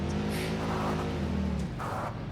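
Car engine from Satisfactory, a factory-building video game, running steadily with a low droning hum and rising rev for about a second and a half, then cutting off.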